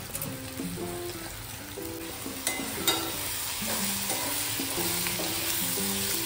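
Onions frying in a pan with turmeric and masala for a Kolim shrimp dish, a soft steady sizzle broken by scraping stirs of a spoon, with faint background music.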